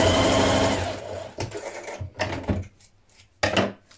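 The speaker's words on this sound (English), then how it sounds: "With right sides facing, you're going to stitch the long edge of your cuffs down here" A sewing machine stitching the long edge of knit sweater cuffs, right sides facing, in a short loud run of rapid stitching followed by a few softer stops and restarts.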